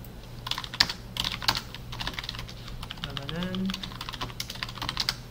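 Computer keys clatter in quick bursts and single presses while a voice talks briefly in the middle.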